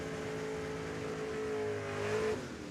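A 1967 notchback storms down a drag strip, its engine roaring loud and close with a rising pitch as it accelerates, carrying on steadily without any voices.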